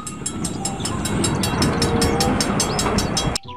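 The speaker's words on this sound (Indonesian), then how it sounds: "Kereta Thomas." A toy Thomas train rolls steadily with a rhythmic clickety-clack of wheels on track, loud and close, ending abruptly.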